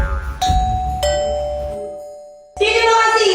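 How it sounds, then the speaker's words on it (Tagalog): A two-tone doorbell chime rings twice, the second tone sustaining and fading before another burst of sound. "Dapat pala hindi ako nagpakabit ang doorbell na yan eh"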